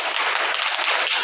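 Brief burst of dense clapping from a classroom audience applauding a student group after their presentation, steady and fairly loud throughout with no voices.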